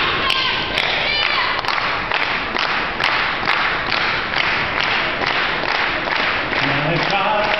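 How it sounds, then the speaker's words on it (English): An audience claps hands in rhythm along to the Rutgers fight song, with steady crowd clapping and voices throughout. "I'd like you all to clap your hands with me as we sing this fight song for Rutgers"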